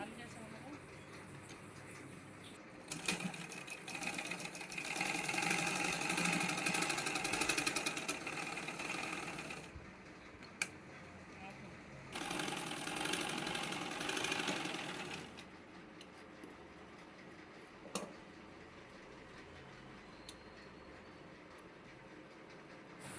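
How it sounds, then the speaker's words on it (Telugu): Sewing machine running a second line of stitches over a folded seam in fabric, two loud bursts of rapid mechanical whirring separated by a pause, close by, with a few clicks afterward. "మళ్ళీ కుట్టు అనేది పైన మళ్ళీ ఇంకొక కుట్టు వేసుకోవాలి."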